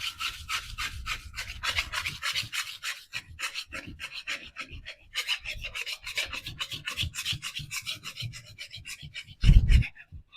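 A painted wall surface is rubbed by hand, making a dry, scratchy, rhythmic rasp of quick repeated strokes close to the listener, with a brief low bump near the end and no speech.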